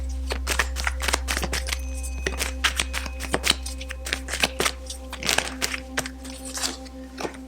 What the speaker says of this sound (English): Maybe it's just my shuffling, guys, but I do tend to like to wait till they fall or flip.